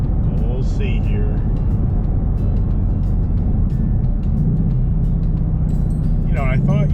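A 2020 Ford Shelby GT500 engine fitted with a JLT air intake rumbles steadily from inside the car as it drives, with a low, continuous drone and brief tones shifting near the end.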